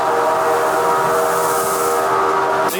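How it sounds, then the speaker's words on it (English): A ride effect of an oncoming train on the Earthquake attraction in Gatlinburg, Tennessee: a steady, loud rumbling roar with whistle-like tones, building throughout and ending in a sharp hiss. "Control, we have a train on our track and it's coming right at"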